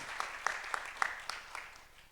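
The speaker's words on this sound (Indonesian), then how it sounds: "Ayo kita tepuk tangan untuk Tuhan" A church congregation at a Sunday worship service claps for God. The claps are sparse, rhythmic and fairly faint, landing roughly every quarter second and thinning out toward the end.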